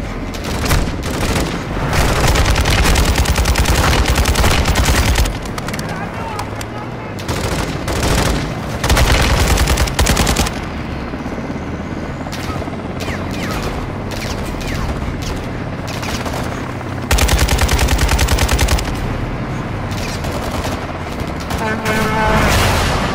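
Light machine gun fire in a video game, loud sustained bursts and booming shots running almost continuously, with brief lulls between volleys and some voice underneath.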